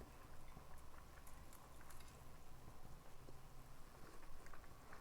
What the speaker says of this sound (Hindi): चावल में उबाल आ गया, ये देखें।